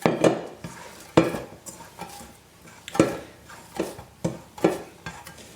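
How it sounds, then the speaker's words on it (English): Corn tortilla dough made from Maseca is kneaded by hand in a bowl, giving soft irregular thumps, squishes and light knocks against the bowl. The sounds are close and fairly quiet, with no talking. "as I knead the dough together, it cleans up the bowl pretty well"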